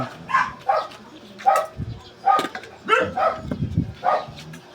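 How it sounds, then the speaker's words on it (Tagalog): Several pet dogs bark and yip at feeding time, with short sharp barks coming in quick irregular bursts close by, while a person talks among them. "Marami kami pinapakain na mga aso."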